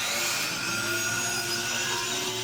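A miter saw cuts through wood in a short, loud, continuous whining roar with no break, close by.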